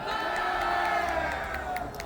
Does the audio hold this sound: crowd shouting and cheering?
yes